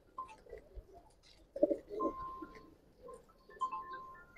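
Pigeons at a breeder's loft, including an old-breed hen, give soft low cooing murmurs in short bursts, fairly close and quiet, with a few clicks and brief tones from the surroundings.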